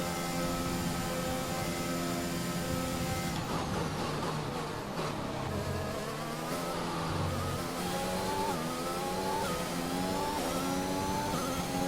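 An F1 race car in a video game accelerating with ERS engaged, a loud high-pitched engine whine that climbs steadily through the gears with brief dips at each shift, continuous and without voices.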